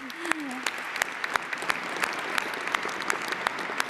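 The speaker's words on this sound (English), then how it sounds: "we could clap for it. You guys clap." An audience at a tech-policy event claps, a moderate sustained round of applause with crisp individual hand claps standing out, and a voice briefly heard at the start.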